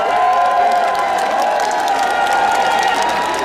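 A large outdoor festival crowd in Jindo applauds and cheers as a singer is welcomed, a loud, steady wash of clapping and shouts with a bright sustained tone running through it.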